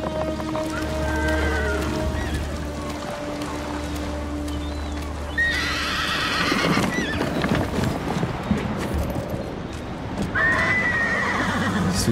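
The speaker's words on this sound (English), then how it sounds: "You look just like my father's horse." Horse in Ghost of Tsushima, a samurai's warhorse fitted with armor, whinnies loudly twice over a steady run of clip-clopping hooves, with a music bed in the background.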